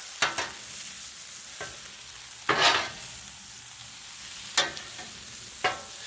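Paella is flipped and sizzles on a Blackstone griddle, a quiet steady fry punctuated by a few sharp scraping spatula strokes and clatters.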